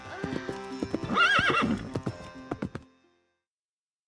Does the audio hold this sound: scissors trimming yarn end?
no